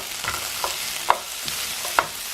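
Zucchini, bell peppers and onions sizzling in a frying pan while being stirred, with a soft continuous crackle broken by a few sharp utensil clinks against the pan; no one speaks.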